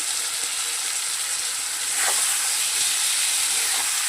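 Spice paste (masala) being fried in a pan for a curry with fritters made from soaked matar dal: a loud continuous hiss and sizzle that swells halfway through as the paste is stirred, with no one speaking.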